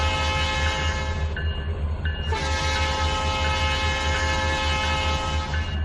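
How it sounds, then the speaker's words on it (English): A train in the Trainz 2019 simulator game rumbles steadily close by as its horn blares in long sustained blasts, briefly cutting out before sounding again loudly. "Here comes a train."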